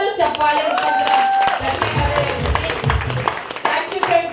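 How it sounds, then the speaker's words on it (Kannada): Audience clapping for Pradeep sir, a mentor, at a product training event in a hotel, with the applause rising and holding steady throughout, mixed with overlapping crowd chatter and background noise. "ಜೊತೆಗೆ ನನ್ನನ್ನ ಮೆಂಟರ್ಶಿಪ್ ಮಾಡ್ತಿರಂತ ಪ್ರದೀಪ್ ಸರ್ಗೆ ನಿಮ್ಗೊಂದು ಜೋರು ಚಪ್ಪಾಳೆ"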